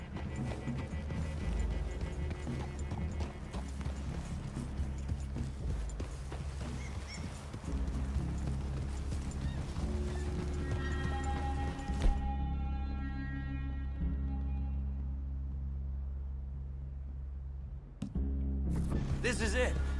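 Horse hooves clip-clop in a steady trotting rhythm in Red Dead Redemption 2, mid-distance, with a brief tonal musical swell partway through.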